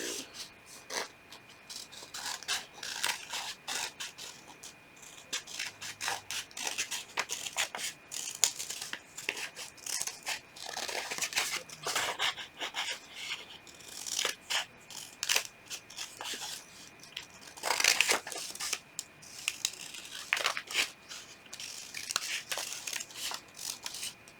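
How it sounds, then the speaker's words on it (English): Scissors cut out paper pieces for a Pacman paper squishy, with repeated crisp snips and crinkling of the sheet, close and quiet, and short pauses between the runs of cuts. "I'm just going to cut along the lines that you just drew."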